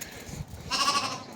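Lambs on a farm give a short, wavering bleat up close, following a moment of quieter rustling and shuffling.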